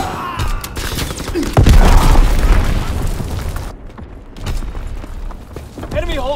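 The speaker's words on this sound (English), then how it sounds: "Enemy bomb incoming." A bomb blast in Call of Duty WWII multiplayer on the Flak Tower map thuds in with a heavy low boom, surrounded by scattered gunfire bursts and brief game voice callouts.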